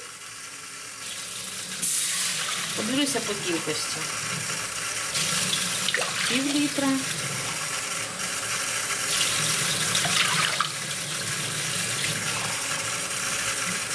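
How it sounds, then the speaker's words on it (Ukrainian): Running cold water from a tap pours steadily into a soup pot for several seconds, with a voice speaking briefly over the flow. "Тепер потрібно додати води. Холодної води."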